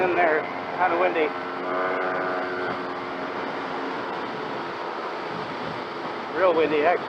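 Steady wind roar buffets a motorcyclist's helmet at speed, a constant broadband rush with intermittent engine drone, while the rider talks over it at the start and end.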